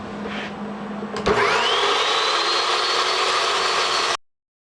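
A metal chop saw spins up with a sudden loud whine and grinds steadily through steel for a few seconds before stopping abruptly.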